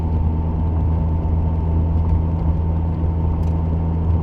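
A 1994 Nissan NISMO 270R cruises at about 55 mph, a steady low engine and road drone with constant tyre rumble heard from inside the cabin, loud and unbroken with no talking.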